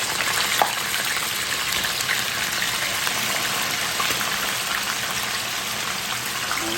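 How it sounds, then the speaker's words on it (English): Pork chops frying in hot cooking oil, a loud, continuous sizzle and crackle that fills the whole stretch steadily, with occasional sharper pops breaking through. "We're gonna put the pork chop now."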